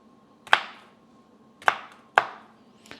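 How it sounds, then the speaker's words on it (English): A knife chops through a jalapeno on a board for keto Southern-style cornbread: three sharp, close thwacks spaced unevenly, each with a short ring, and quiet between them. "take this and slice it. So you have little pieces of jalapeno in your cornbread"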